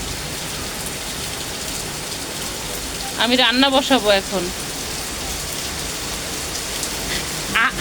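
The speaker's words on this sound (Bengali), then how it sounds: "মুষলধারে বৃষ্টি হচ্ছে" Heavy rain pours down steadily outside a home, a dense, even hiss that holds from start to finish. Someone speaks briefly over the downpour.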